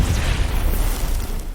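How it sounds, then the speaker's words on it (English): A phosphorus grenade detonates in someone's hands in a sci-fi drama, heard as a dense, sustained blast of roaring noise with heavy low rumble that barely fades across the moment. "He then detonates a phosphorus grenade in his hands."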